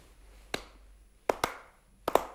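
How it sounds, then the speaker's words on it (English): A few people clap along to a steady beat, with three bursts of two or three sharp, close claps spread through an otherwise quiet room. "Okay, they are clapping like this."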